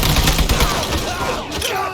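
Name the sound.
gunfire in the video game Mafia III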